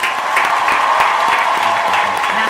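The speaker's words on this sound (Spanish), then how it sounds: "tenemos aplausos virtuales" Virtual applause plays in a TV studio, a dense, even wash of clapping from a crowd, loud and unbroken for a couple of seconds with no voices on top.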